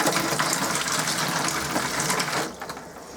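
Hot water gushes steadily from the shower head in a 2006 Elddis Avante 505 touring caravan, a loud, close hiss that eases slightly toward the end.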